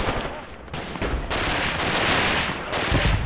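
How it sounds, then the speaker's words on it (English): A grenade blast in the wartime game Graviteam: Pivot Point bursts as a harsh, broadband crack followed by a second, heavier rumbling explosion, loud and close, with no voices over it. "Another grenade."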